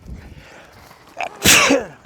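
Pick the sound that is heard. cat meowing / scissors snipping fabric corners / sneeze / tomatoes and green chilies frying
sneeze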